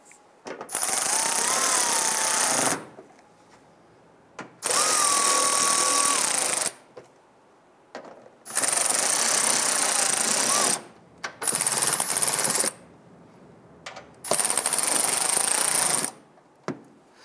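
A power tool drives fender liner screws on a 2002-2008 Dodge Ram 1500 in four loud bursts of whirring, each about two seconds long, separated by short silences.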